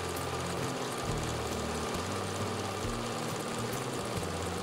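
Domestic sewing machine stitching a pocket onto a frilly fabric apron, a steady continuous mechanical hum with rapid needle chatter running throughout, close and alone with no talking.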